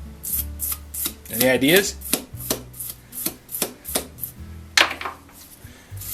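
A steel thread on a blacksmith's post vise being scrubbed clean, giving repeated rhythmic rasping strokes up close, with someone speaking briefly between them.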